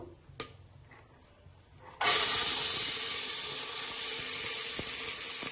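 Lentils and greens frying in a pan for hitikida bele sambar give a sudden loud hiss that starts at once and holds as a steady, bright sizzle, after a faint clatter.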